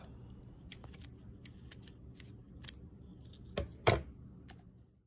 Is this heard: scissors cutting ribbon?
yes